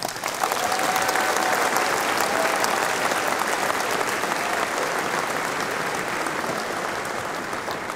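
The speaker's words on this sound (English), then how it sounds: "Can you have another round of applause, please?" A graduation ceremony audience gives a round of applause, broad steady clapping from a large crowd that holds for several seconds and slowly tapers, with a faint tone running underneath early on.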